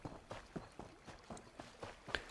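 Horse hooves in The Elder Scrolls Online video game, a soft, even series of clip-clop steps at a walking pace, faint and fairly close, with no talk over them.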